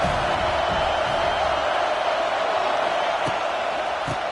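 A large stadium crowd roars steadily throughout at a college football game against Auburn, a dense, sustained wall of cheering with no break.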